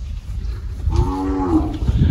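Cattle mooing close by, a long low harmonic moo rising over the middle of the clip, with faint rustling and bumps around it.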